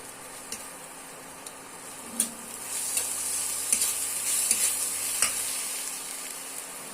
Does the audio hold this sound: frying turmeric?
yes